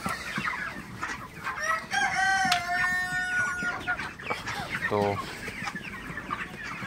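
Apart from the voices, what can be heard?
chickens clucking while being shooed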